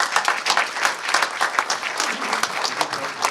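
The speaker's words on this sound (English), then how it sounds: "So let's give him a big round of applause." Audience applause at a fundraising dinner for a minister taking the podium, dense crowd clapping with a lively, uneven patter at moderate loudness, sustained across the moment.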